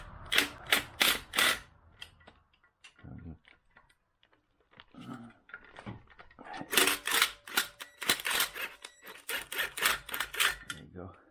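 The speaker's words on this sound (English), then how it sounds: "Where's my impact? All I gotta do is loosen it just a little bit because it'll slide" An impact wrench loosens a bolt on a 1996 Ford Mustang during a wiring harness and accessory swap in a garage, short loud rattling bursts at the start and again later, separated by quieter clicks and someone talking.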